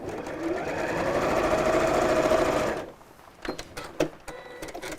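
A sewing machine stitches a seam with a steady, fairly close whirring run for almost three seconds, then stops, followed by a few short clicks and handling knocks.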